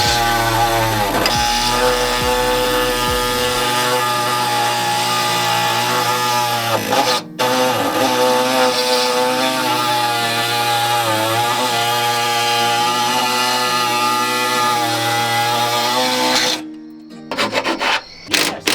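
Power tool cutting through the frame of a boosted MR2 Spyder: a loud, continuous whining grind with shifting pitch runs for most of the time, then cuts off into brief rattles.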